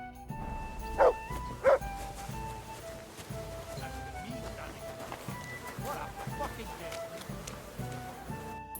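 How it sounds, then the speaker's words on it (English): A dog in Kingdom Come: Deliverance 2 gives two sharp barks close together early on, then game ambience carries on with murmuring voices and faint hoof clops. "You silly doggy."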